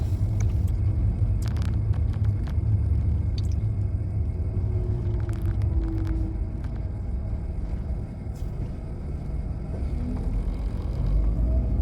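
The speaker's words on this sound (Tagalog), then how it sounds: "It's traffic, guys." Road traffic on a street in West Moring, a steady low rumble of passing cars close by with a few faint clicks and knocks on top, continuous throughout with no talking.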